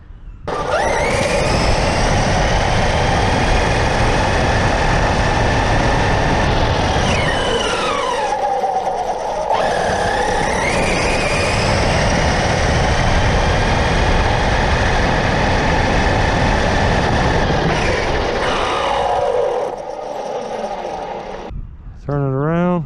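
A Losi DBXL-E electric RC truck on stock gears and fresh batteries runs flat out, a loud sustained motor whine that rises and dips as it passes, with a person talking over it.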